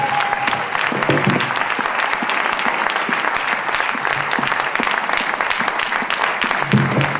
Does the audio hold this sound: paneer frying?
no